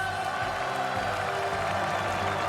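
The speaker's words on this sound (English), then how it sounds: "It's a standing ovation for Mark Coleman." Arena crowd at a Pride fighting championship on its feet for Mark Coleman's victory, a dense continuous roar of cheering and clapping filling the space, distant and sustained without pause.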